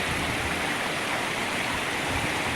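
Clear water pours steadily over rocks at a waterfall in Khiri Wong village, Lan Saka, Nakhon Si Thammarat, making a broad, unbroken rushing roar up close with no voices.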